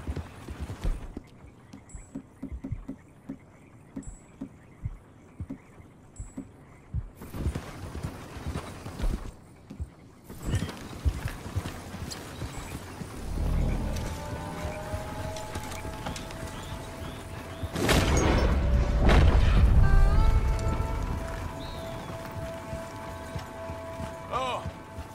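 Horse hooves clip-clopping along a trail in Red Dead Redemption 2, a steady walking rhythm that runs throughout with a louder, rumbling stretch partway through and occasional talk over it.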